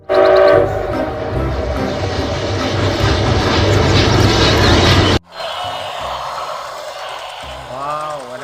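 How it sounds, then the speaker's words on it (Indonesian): A loud, rattling mechanical rumble of a Thomas toy train runs steadily for about five seconds, then cuts to a quieter scene with a voice talking. "Ada kereta api mau lewat."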